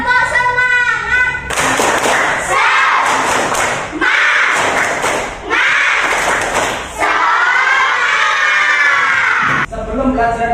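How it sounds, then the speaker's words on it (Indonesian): Schoolchildren in a classroom perform a rhythmic spirit clap chant, loud group shouting and chanting alternating with bursts of patterned clapping, with a teacher's voice leading at the start. "Tepuk semangat."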